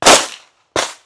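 Two sharp pistol gunshots fired at an outdoor range with a competition handgun, each a loud, close crack with a short decaying tail, spaced well apart.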